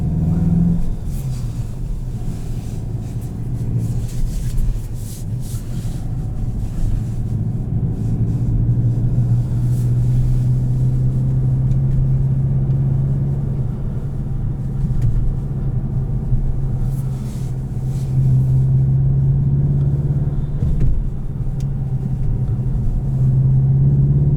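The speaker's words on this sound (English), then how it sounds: "You can definitely hear the wastegate." Cabin sound of a 2021 Volkswagen Jetta GLI with DSG gearbox driven in sport mode: a loud, continuous low engine and intake drone that swells and eases slightly as speed changes, steady throughout with no talking.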